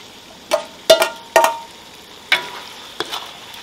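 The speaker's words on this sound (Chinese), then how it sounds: "来上一勺豆瓣酱，把它炒滑炒香" Chicken gizzards stir-fried with chili bean paste in a wok: five sharp, separate scrapes and clinks of a spatula against the metal, spaced about half a second apart over a quiet background.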